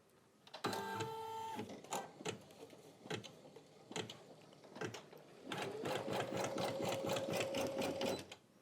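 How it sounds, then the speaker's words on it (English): An embroidery machine stitches a basting frame on a 5x12 inch hoop, with bursts of mechanical whirring and clicking, short pauses between, then a longer steady run of stitching. "It's doing some sort of basting stitch frame too, which I did not expect."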